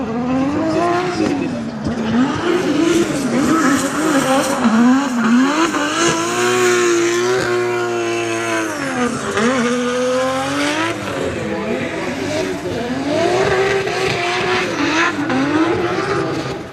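Race car at Mondello Park, Ireland, loud and close, engine revving up and down through repeated gear changes and acceleration, with tyre squeal in places and a voice faintly underneath.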